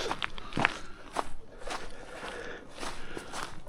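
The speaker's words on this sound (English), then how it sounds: "Hopefully you can hear the crunch underfoot of the icy conditions." Footsteps crunch over icy ground outdoors in winter, several crisp, uneven steps close by, moderately quiet, with no talking.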